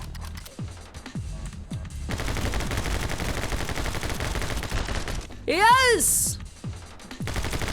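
Gunfire from the My Friend Pedro video game: a few isolated shots, then a dense rapid burst of automatic fire lasting several seconds, followed by swooping sounds and a crash, with a player's voice briefly heard.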